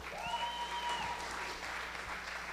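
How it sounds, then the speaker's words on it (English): Audience applause greets a speaker at a Latinx in Tech accelerator event, a steady dense clapping wash throughout with a brief whistle near the start. "Everyone give him a round of applause."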